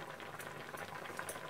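Moong dal bubbles softly in a pot on low heat, a faint continuous simmer with small popping bubbles and no voices.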